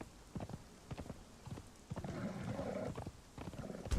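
Horse hooves clip-clop in the video game Conan Exiles, a quiet, irregular run of soft thuds across a few seconds.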